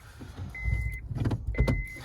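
An electric seat motor in a Honda Civic FN2 Type R whines in two short bursts, each about half a second long, with clicks and soft thumps of the seat moving between them, close and fairly quiet.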